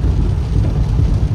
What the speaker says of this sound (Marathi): खूप जास्त पाऊस आहे